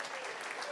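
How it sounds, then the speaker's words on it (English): Studio audience clapping on a talk show, a brief, dense burst of applause that stays steady and close throughout. "Round of applause for Damian."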